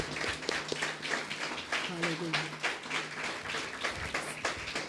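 A church congregation claps together at a Sunday service, a dense steady patter of hands filling the room while voices carry over the top.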